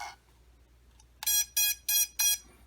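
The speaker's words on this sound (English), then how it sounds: "Yes, buzzer is working" Four evenly spaced, loud electronic beeps come from the buzzer on a quadcopter's ELRS receiver, each a bright steady tone lasting about a quarter second, following a faint earlier chirp.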